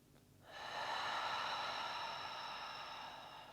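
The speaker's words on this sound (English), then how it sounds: "Just taking as many of these breaths that you need to kind of settle yourself in here." A long, slow exhale through the mouth during deep yoga breathing, a steady airy rush that swells quickly and fades gradually over about three seconds, close and alone.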